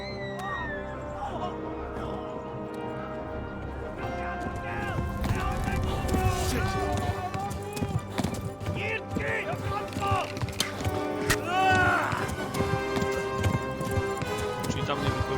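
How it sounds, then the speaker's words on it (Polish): Horse galloping in the medieval game Kingdom Come: Deliverance, rhythmic hoof clip-clop running under game music and a voice talking throughout. "Uciekamy na koniu."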